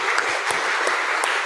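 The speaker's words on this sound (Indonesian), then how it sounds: "kita beri tepuk tangan bersama-sama" Audience applause at an academic chapel worship service, a dense continuous wash of many hands clapping, loud and even throughout.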